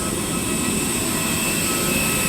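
Air India Express Airbus A320 jet engines running, a steady broadband whine and rumble heard from inside the cabin, constant and moderately loud with no voices.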